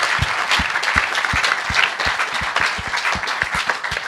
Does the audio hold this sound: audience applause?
yes